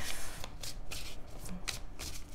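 A deck of cards is shuffled close by in several quick riffling bursts, each a crisp papery flutter, with brief pauses between them and no talk.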